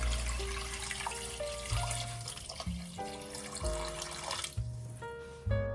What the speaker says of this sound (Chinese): 加入2升温水或者开水